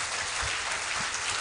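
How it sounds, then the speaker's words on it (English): Audience applause at the close of a presentation during a live Success Africa Summit 2026 event, a steady, dense wash of many hands clapping at moderate level with no talk over it. "A louder round of applause for Mr. Paul."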